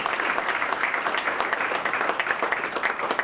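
A crowd gives a round of applause for the event photographer at a senior awards breakfast, a dense, steady clapping that lasts the whole stretch.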